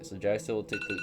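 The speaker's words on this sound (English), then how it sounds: "Oh, sorry, that's my alarm." A phone alarm chimes in a repeating electronic pattern of short tones, heard beneath someone talking during a tabletop role-playing game session.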